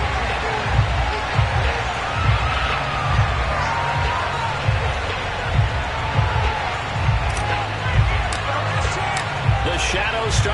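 A stadium crowd in an EA Sports NFL video game, at a matchup against the Arizona Cardinals, sends up a steady, dense roar with recurring swells and occasional sharp thumps. It continues throughout.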